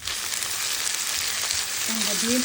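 Onions and carrots sauté in hot oil for vegetable fried rice, a steady close sizzle running throughout with brief stirring scrapes near the end.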